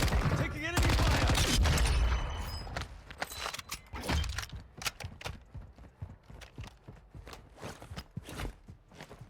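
Gunfire in the video game Call of Duty Warzone 2.0 on Ashika Island, a burst of loud rapid shots followed by scattered sharp cracks and thuds that fade and recur irregularly.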